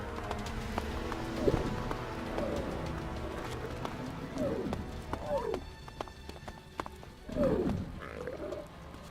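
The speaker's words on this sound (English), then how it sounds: "What on earth? Terror bird." A terror bird creature in the game ELEX gives several short, warbling calls over about nine seconds, set among footstep-like thuds and clattering game sounds at moderate level.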